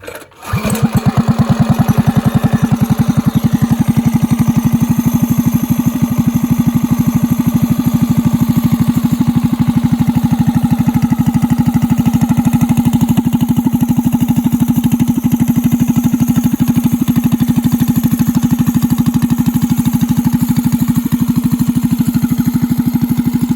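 A cheap custom-painted minibike engine, fitted with a carburetor not meant for a 200, runs loud and steady after starting, a close buzzing drone holding an even idle with no talk.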